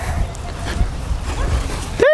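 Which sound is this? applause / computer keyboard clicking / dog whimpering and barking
dog whimpering and barking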